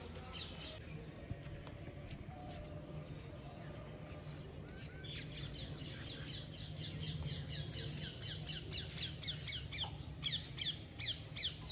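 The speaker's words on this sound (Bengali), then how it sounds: "ওই দেখো টিয়া পাখির আওয়াজ শুনেছো, এক্ষুনি ডাকলো" Harsh, repeated squawks of a parakeet grow louder and more frequent over a steady background hum, coming in quick rhythmic bursts toward the end.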